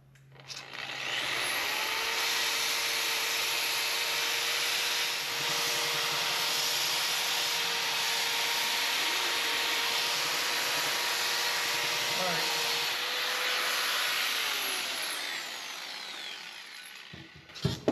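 A Vevor pipe grinder polishes a rusty 1.5-inch control arm from an XJ, producing a loud, steady, continuous grinding whine that runs almost unbroken for about fourteen seconds before winding down.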